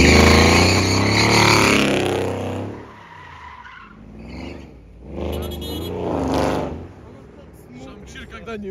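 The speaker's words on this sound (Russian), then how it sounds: "Да, выхлоп хороший, брат." A BMW M2 G87 exhaust revs loud and close for a few seconds, then drops back to a quieter engine burble while people talk over it.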